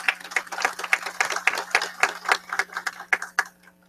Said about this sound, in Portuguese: a doutora Débora Prates, para quem eu peço uma salva de palmas.